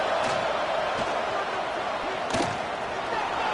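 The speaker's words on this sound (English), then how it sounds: "It's early, but this crowd is fired up. Listen to this noise here." A fired-up football stadium crowd roars early in a game, a broad, steady wall of noise with a few sharp thuds and swells rising out of it, and faint commentary underneath.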